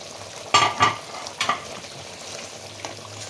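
Katla fish cooking in a pan for doi maach, a soft steady sizzle broken by a few sharp scraping clatters of a utensil against the pan, close and without any voices.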